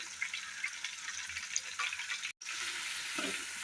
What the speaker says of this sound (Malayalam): ഇനി ആ ഇഞ്ചിയുടെയും ഇടയൊക്കെ ഒരു പച്ചമണം മാറുന്നുള്ളവരെ നമുക്കൊന്ന് വഴറ്റി കൊടുക്കാം